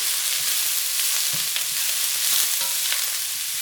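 Broccoli and shredded carrots stir-frying in a pan for a beef udon stir fry, a bright constant sizzle with soft scraping stirs scattered through, close up and without voices.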